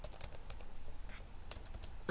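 A computer keyboard is typed on with one hand, producing slow, uneven clicks and taps with irregular pauses between keystrokes, close and fairly quiet against a low background hum; one key is somewhat busted.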